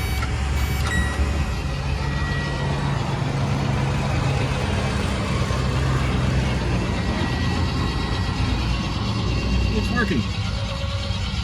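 A 1969 MG GT engine cranks over on its starter motor, a steady continuous churning drone running loud and unbroken throughout, with a brief voice heard briefly.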